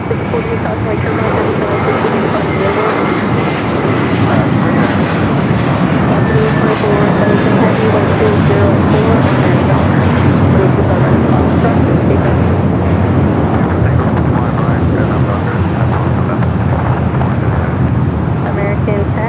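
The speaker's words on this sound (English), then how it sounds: "We do have American Airlines Flight 10 heading to JFK and A321. Next takeoff." An American Airlines A321 headed for JFK takes off at LAX at night, a steady, loud jet roar filling the scene throughout, with a voice talking faintly beneath the engine noise.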